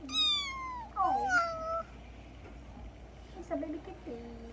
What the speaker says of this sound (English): It's a baby kitty.